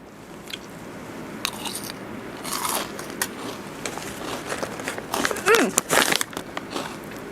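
Crispy fried chili with tom yum seasoning being bitten and chewed close to the mic, a few scattered crunches building to a louder cluster of crackly bites near the end, with little talk.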